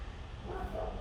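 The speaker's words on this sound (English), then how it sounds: "I'm getting distracted by a barking dog outside" A dog barks outdoors at a distance, a brief muffled bark with a faint whimpering tone heard through a room over a steady low background hum.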